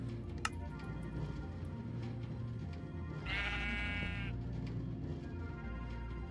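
Sheep bleating in Minecraft, a single clear bleat rising over a steady low game background with faint ticking, no talking.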